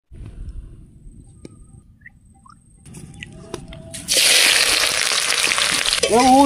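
Mustard oil heating in a hot wok with chopped pumpkin: a few quiet clinks and stirring, then a sudden loud, sustained sizzle of frying that fills the last couple of seconds, close up.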